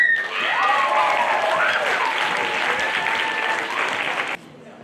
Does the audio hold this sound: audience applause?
yes